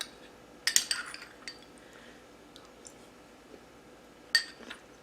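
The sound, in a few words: stirring butternut squash and apple in a pan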